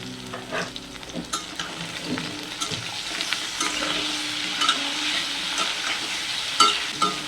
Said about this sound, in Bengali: বেগুনটা ঠিক ততটাই ভাজতে হবে আমরা যাতে ভাতে খেতে পারি ঠিক তেমন করেই বেগুনটা ভেজে নেব